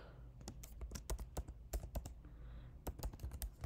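Fingers tap out code on a computer keyboard in an irregular run of crisp, close keystrokes with brief pauses between clusters, heard alone without talk.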